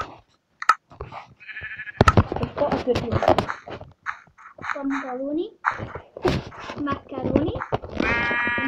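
Synthetic sheep bleats from Minecraft sound a few times, mixed with a young person chattering excitedly over them.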